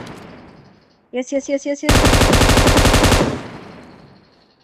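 Gunfire in PUBG Mobile: a quick burst of five separate shots, then a loud sustained automatic volley of rapid rounds lasting over a second, close and dominant before it fades out; a voice speaks briefly.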